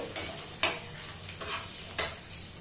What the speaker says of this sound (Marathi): तीन लाल तिखट मिरच्या घेतलेल्या आहे मी चार ते पाच लसणाच्या पाकळ्या परतवून घ्यायचं आहे